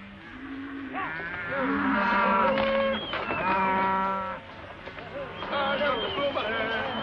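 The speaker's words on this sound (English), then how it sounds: "Those nice tender cows, you must treat them tender." Cattle moo repeatedly in long, drawn-out calls, fairly close and loud, with a few short lowing sounds between them.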